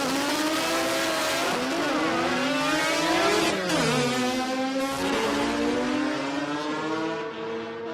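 A left-hand drive Mazda RX2 coupe at a drag racing event, its rotary engine screaming loud and close through rising gear pulls, then easing off as the run finishes.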